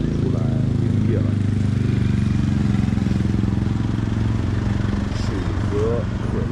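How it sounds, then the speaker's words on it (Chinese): At a small seaside market on the Gulf of Siam, local villagers' motorcycles keep up a steady low engine drone throughout, mixed with background voices and occasional clatter. "当地村民摩托车开着出来营业了"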